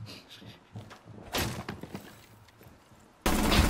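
Gunfire from the video game Rainbow Six Siege: a few scattered shots and impacts, then a sudden loud burst at the end, with quieter game noise and footsteps between.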